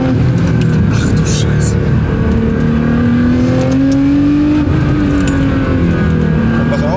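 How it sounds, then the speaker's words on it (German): Older Nissan GT-R R35 losing traction and sliding sideways under throttle, its engine revving loud and close in one continuous rising and falling pull, with talking underneath. "wenn ich jetzt hier Gas gebe, dann geht auch so ein GTR ganz schön quer"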